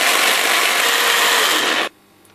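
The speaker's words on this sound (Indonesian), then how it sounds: "Kemudian kita berikan sedikit air dan siap kita blender." A kitchen blender whirs at full speed, chopping cut pandan leaves with a little water. The loud, steady grinding roar runs for about two seconds, then cuts off abruptly into near silence.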